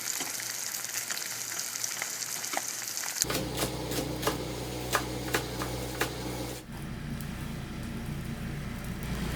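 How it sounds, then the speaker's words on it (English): Ginger sizzles and crackles steadily in hot oil in a pan, a close frying hiss with occasional sharp pops, growing denser and louder toward the end. "do that ever so slight sizzle"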